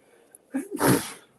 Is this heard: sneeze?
yes